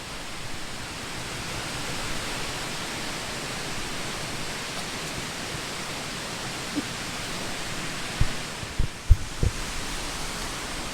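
Veliki Slap, the 87-metre waterfall at Plitvice Lakes in Croatia, roars as a dense, unbroken wash of falling water, loud and constant, with a few brief knocks near the end.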